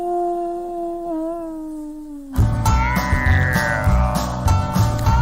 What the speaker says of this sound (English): The most famous animal howl in radio, Jerry Hicks and the DarkWolf's Den.